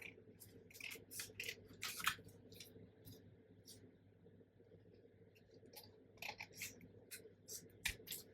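Scissors snip around the edges of a recycled toilet-roll card with quiet, irregular clicks and crisp cuts in short clusters, close up but soft.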